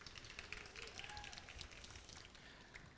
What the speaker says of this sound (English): that is the sound of the 3D printed grousers on those hot pink wheels interacting with the metal